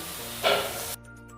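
Cashew nuts frying in ginger-garlic paste in a pan, a steady sizzle that swells into a louder hissing burst midway, then cuts off abruptly to near quiet.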